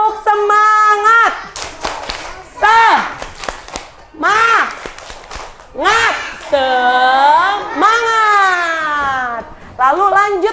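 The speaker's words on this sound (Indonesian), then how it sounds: "kita tepuk semangat terlebih dahulu" An Indonesian primary school class performs a tepuk semangat spirit clap, with rhythmic bursts of hand claps mixed with lively chanting and shouted children's voices.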